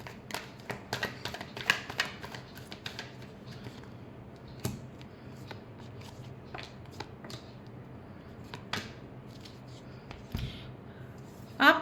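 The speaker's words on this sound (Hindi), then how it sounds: "Last shuffle." Tarot cards are shuffled by hand in quick, crisp riffles and flutters, close and fairly loud, with brief pauses between bursts and a final sharper flurry at the end.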